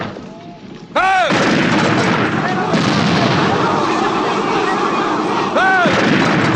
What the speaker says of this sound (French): Deuxième canon! Feu!